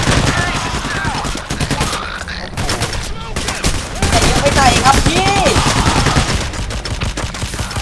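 Dense gunfire fills a Payday: The Heist shootout, rapid bursts and overlapping shots close and loud, with frantic voices shouting over the firefight.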